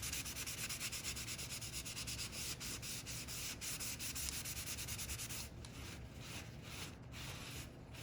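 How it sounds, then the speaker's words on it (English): A shop cloth rubbing back and forth over a surface gives a continuous, fairly quiet scrubbing hiss in a steady rhythm, which eases off slightly toward the end. "I'm going to take my shop cloth and I'm going to start rubbing this back."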